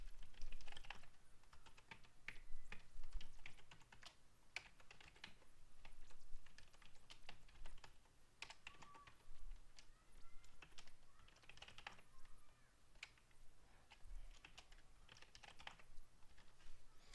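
Someone types a password on a computer keyboard while installing server software, producing quiet, steady clusters of key clicks in a calm room.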